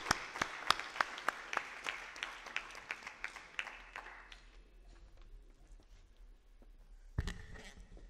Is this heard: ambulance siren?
no